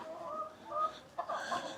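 Farm chickens cluck in short, tonal bursts close by, several separate calls in under two seconds, quiet overall with no talking over them.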